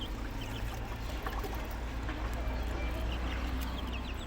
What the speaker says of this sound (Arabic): هنا هنحط الميه،